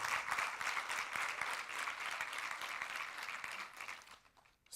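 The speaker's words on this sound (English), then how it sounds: "ask you to applaud the organizers" An audience at an autism research conference applauds the organizers with sustained, dense clapping that holds steady before tapering off and fading out near the end.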